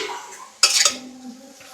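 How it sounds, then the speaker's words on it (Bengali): A spoon clinks and scrapes against a metal pan as grated coconut is stirred with winter date-palm jaggery for patishapta pitha filling, one sharp clatter followed by quieter scraping, close by. "এখন নারকেল গুড়ে নাড়া হচ্ছে।"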